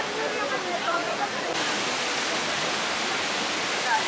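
Splashing water of the Trevi Fountain in Rome, a steady broadband rush heard close and fairly loud without pause.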